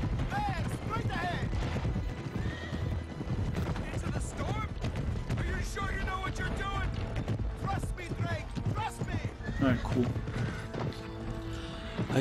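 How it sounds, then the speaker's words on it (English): Horse hooves clip-clop in a galloping rhythm during a stormy desert scene in the video game Uncharted 3, mixed into a dense bed of music, shouting voices and other game effects, with some sharp bursts resembling gunfire. "But the horses need water too."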